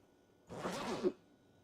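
Quick zip on a school bag as it is equipped in Project Zomboid, a single short rasping pull lasting under a second against near silence.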